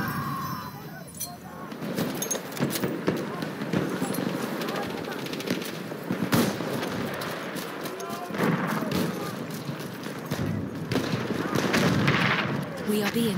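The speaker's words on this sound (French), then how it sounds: "C'est une mitrailleuse ennemie!" Enemy machine-gun fire rattles in Battlefield 1 amid a busy battlefield, with sharp bursts and scattered gunshots over a dense din of combat, close and loud throughout.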